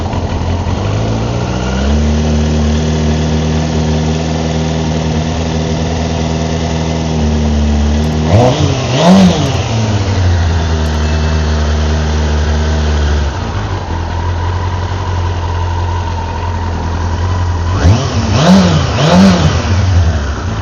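A Kawasaki ZX-6R Ninja engine with stock exhaust idles steadily, then revs up sharply twice in quick bursts before settling back to a rumbling idle, close and loud.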